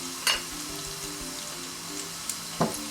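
Cumin and fenugreek seeds sizzle softly in hot oil, a faint low crackle with a few brief sharp pops and taps near the start and end.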